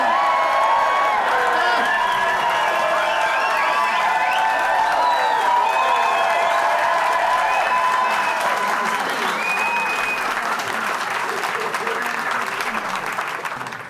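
A large live comedy audience cheers and applauds loudly and continuously, with whoops and shouts mixed into dense clapping that holds steady for the whole stretch before easing slightly at the end.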